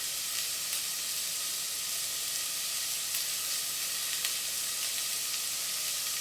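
Coriander powder sizzling in a pan for carrot coriander soup, a steady soft hiss of spice frying in oil, continuous and fairly quiet throughout with no talk.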